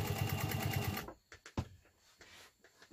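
A Pfaff 130 sewing machine stitches in a fast, steady rhythmic whir for about a second, then stops, leaving quieter clicks and handling noises at close range.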